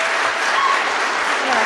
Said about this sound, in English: So give these folks a big round of applause.